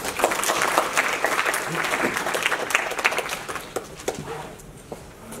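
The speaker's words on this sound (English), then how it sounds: "Let's give her a round of applause" A lecture audience gives a round of applause for a team member, a dense burst of clapping that thins and fades into scattered claps toward the end.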